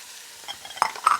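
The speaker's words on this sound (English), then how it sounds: "we're going to saute those down a little bit, just till they get a little soft" Chopped onions, celery and green onions sautéing in a pot for shrimp and butter beans, a short burst of moderate sizzling with a couple of quick stirring scrapes near the end.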